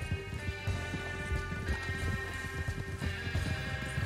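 A horse in Red Dead Redemption 2 gallops steadily with quick, rhythmic hoofbeats close by, the clip-clop continuous and even under a faint background hum.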